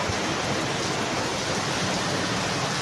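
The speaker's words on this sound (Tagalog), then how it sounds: "Grabe na tong ulan na to." Heavy rain pours steadily, a dense, constant roar of falling water with no letup and no voices.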